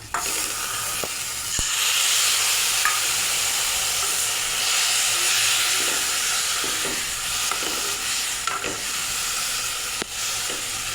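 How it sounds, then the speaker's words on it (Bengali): Zarda semai vermicelli hisses and sizzles loudly in a hot pan after a little water is added, a steady steamy fizz with occasional small pops and scrapes of stirring, close and continuous. "তো আমি অল্প একটু জল দিয়ে দেব, খুব বেশি দেব না।"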